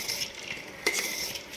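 Jhalmuri, the West Bengal puffed rice street snack, tossed and mixed in a metal pot, a soft continuous rustling with light spoon clinks and one sharper scrape near the middle.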